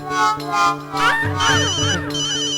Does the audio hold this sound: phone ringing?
yes